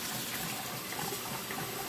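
Hot water runs steadily in a continuous hissing stream, poured into a Keurig coffee maker during cleaning, close by and even throughout.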